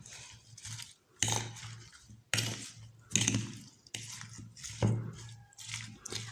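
A spoon mixes a vegetable salad dressed with orange juice, black pepper and salt in a dish: soft repeated scraping and squishing strokes with clinks, in short bursts and pauses, up close.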